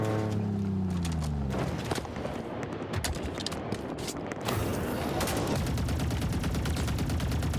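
Turret fire in Halo roars as dense, continuous rapid bursts that fill the whole stretch, loud and close, with an engine-like drone at the start and no talk over it.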